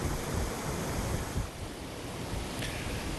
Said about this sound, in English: You hear that rushing water from the storm drains in Solana Beach.